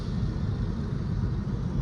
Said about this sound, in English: That is a weird truck noise.